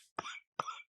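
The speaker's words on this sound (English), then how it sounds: "Cough it up." Two short, harsh coughs in quick succession, close and fairly loud, with a brief pause between them.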